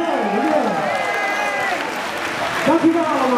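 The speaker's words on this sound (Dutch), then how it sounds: "Een geweldig applaus voor de familie Tijdenburg." Audience applause for a family band at a country music reunion concert in Apeldoorn, a steady wash of clapping with some cheering that continues evenly throughout, while voices and a little music come through over it.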